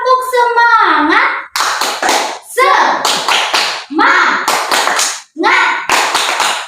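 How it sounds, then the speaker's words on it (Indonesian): A classroom of students doing tepuk semangat, rhythmic spirit clapping in short bursts of hand claps alternating with children's chanted voices, loud and close. "Marilah kita bertepuk semangat bersama-sama."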